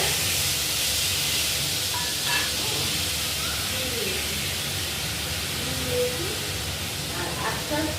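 Spice paste of poppy seed, green chilli, salt and turmeric sizzling in hot oil in a pan, a steady close hiss and crackle running throughout with a few faint clinks.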